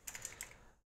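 Quick light keystrokes clatter on a computer keyboard, a short burst of several clicks in under a second, faint and close, ending abruptly in silence.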